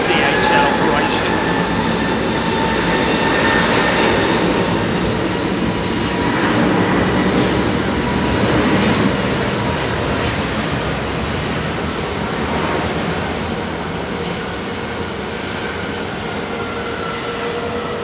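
A DHL aircraft at Heathrow Airport gives a broad, steady engine roar that holds at a fairly constant level for the whole stretch, mid-distance and continuous, with no talk over it.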